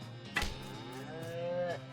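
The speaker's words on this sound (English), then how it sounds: "These cows hurt." A cow in West of Loathing lets out a low, drawn-out moo that swells and fades over about a second, with a short sharp hit just before it, heard alone.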